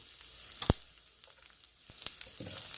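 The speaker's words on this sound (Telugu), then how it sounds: "వెల్లుల్లిపాయలు కూడా వేగిపోయినాయి" Chopped garlic frying in hot oil with browned lentils for yellow cucumber chutney, a quiet, steady sizzle with a few sharp spatter clicks, no talking.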